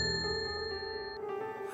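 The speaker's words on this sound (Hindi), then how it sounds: "तभी उसे एक मंदिर की घंटी सुनाई दी।" A temple bell in a Hindi horror story sounds one soft, clear metallic ring whose bright tone hangs and slowly fades over a quiet background.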